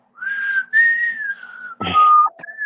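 A person whistles the Jeopardy theme in a few clear, sustained melodic phrases, close and solo, broken by a brief clatter near the end.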